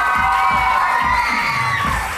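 Studio audience on a weekend talk show cheers and applauds in a loud, continuous crowd roar with a bright whooping edge, steady throughout.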